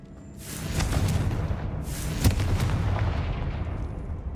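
Two booming blasts of the Confringo spell in the video game Hogwarts Legacy, each a loud, broad explosion with a long rumbling tail, the second following about a second and a half after the first.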